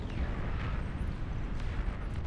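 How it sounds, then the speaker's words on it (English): Barrage of nuke explosions in a massive RTS game, a dense, continuous rumbling roar of overlapping blasts with heavy low-end booms sustained throughout, loud and close with no pause. "Another volley of nukes."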